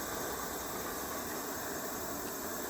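Fome Sports gas canister camping stove burning on a low setting, a steady, faint broadband hiss of the flame that continues evenly without change.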